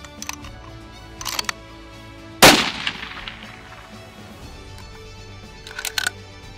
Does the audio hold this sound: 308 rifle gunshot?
yes